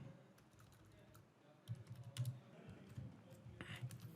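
A message being typed on a computer keyboard, with soft, close, irregular key clicks that pick up into a steady patter partway through, faint and with no speech over it.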